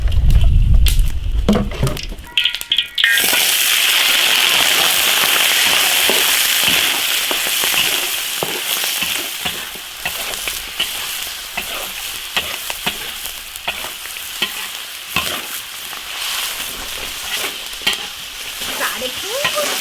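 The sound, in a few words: chicken stir-frying in hot oil in an iron wok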